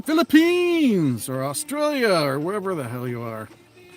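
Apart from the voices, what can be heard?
No everyday noise stands out behind the speech.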